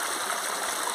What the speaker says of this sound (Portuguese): Você vai pegar a bateia, vai colocar ela na água, ó. Vai encher ela de água, você pode balançar.